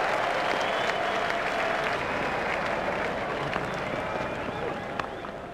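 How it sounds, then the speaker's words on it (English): Steady applause and crowd cheer from a retro cricket video game after a batsman hits a four, a dense, continuous roar of clapping that slowly eases off, with no talk over it. "Crowd were brought to their feet by that shot."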